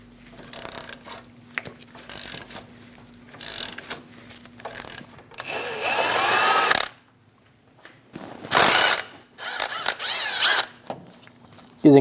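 A wrench or ratchet loosening a lower control arm bolt on a 2001-2006 Chevrolet Silverado 2500 HD, heard as close, loud bursts of rapid ratcheting clicks separated by pauses, metallic clanks and tool handling.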